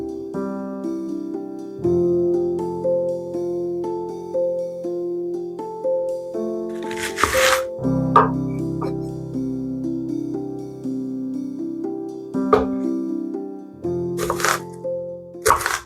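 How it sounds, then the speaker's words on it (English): A knife cuts an onion on a board for liver with onions, a few sharp cracking chops landing over steady background music. "And I just gonna cut it like this."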